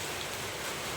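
Steady rain falls across a short stretch, a dense even patter of drops on surfaces, moderately close and continuous with no voices.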